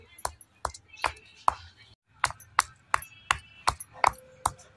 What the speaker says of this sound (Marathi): आरतीकडे नेहमी काम येतं वेलची कुटायचं